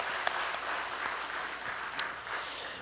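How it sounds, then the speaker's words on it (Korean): Church congregation at a Sunday service clapping warmly, dense steady applause filling the room for a few seconds, with no voices over it. "한번 뜨겁게 한번 박수합시다"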